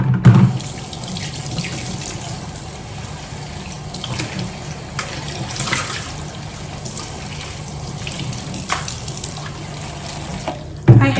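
Water from a kitchen sink tap runs steadily into the basin during dinner cleanup after cooking tilapia, mashed potatoes and broccoli, a continuous close hiss and splash with brief clunks at the start and end.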